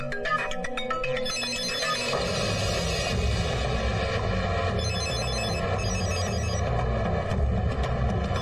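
A telephone rings in a Telugu film scene, its trilling tone repeating steadily for several seconds over a dense, loud background.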